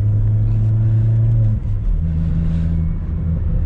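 Remapped 2.0 Chevrolet Astra with a sport muffler rumbles steadily at cruise, a deep low drone that drops pitch briefly midway then settles, loud and close with no talk.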